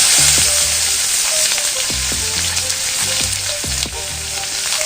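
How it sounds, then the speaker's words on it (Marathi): Cumin, bay leaf and finely chopped onion sizzle loudly in hot oil with a constant close crackle. Soft knocks of a stirring utensil sound now and then, and no one speaks. "फोडणीसाठी मी जिरे टाकते. त्यानंतर तमालपत्र टाकणार आहे आणि बारीक चिरलेला कांदा टाकणार आहे."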